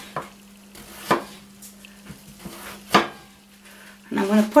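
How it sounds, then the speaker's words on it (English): A knife slicing through an aubergine on a board, a few separate cuts with sharp attacks spaced about a second apart over a low steady hum, a voice talking near the end. "I'm cutting my aubergine"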